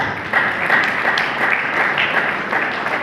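Loud, sustained applause from a large seated audience at a corporate training program, many hands clapping in a dense, even wash that holds steady from start to finish.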